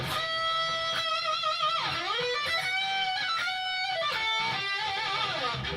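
The same chromatic guitar lick at a quicker pace: sliding, bending notes tumble past in quick runs, loud and near, with no talking.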